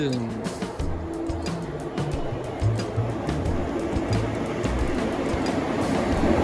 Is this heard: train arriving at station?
yes